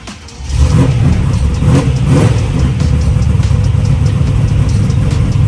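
A Chevrolet Malibu drag car held in low gear and brought up on the converter gives a loud, steady engine drone that rises sharply after a quiet start and holds a throaty, slightly fluttering note.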